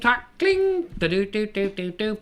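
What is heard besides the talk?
No distinct noise like a dog, phone or traffic.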